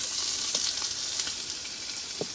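Steak sizzles steadily in a hot pan, a constant close frying hiss broken by a few faint pops and the occasional light stir.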